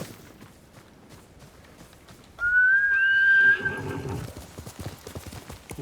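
Sora the horse in Ghost of Tsushima gives a loud, shrill whinny that rises and trails off over a second or so, set against a steady clip-clop of hooves.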